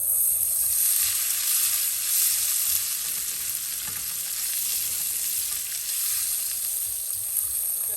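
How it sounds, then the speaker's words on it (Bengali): Chopped onions fry in oil in a wok for a beef and bottle gourd curry, giving a loud, even sizzle that holds steady for the whole stretch. "পেঁয়াজ কুচি আমি এটাকে হালকা একটু ভেজে নেব"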